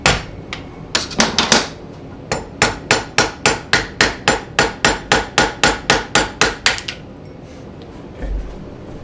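Dust cap being worked loose on a Suzuki DR650 motorcycle rear shock: a close run of about twenty sharp metallic taps in an even rhythm, then quiet.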